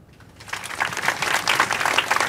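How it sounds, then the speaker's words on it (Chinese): A group of Yao gang members claps in applause, the dense clatter starting softly and swelling to a steady, lively burst of many hands that lasts about two seconds. "药帮全体成员掌声鼓励一下。"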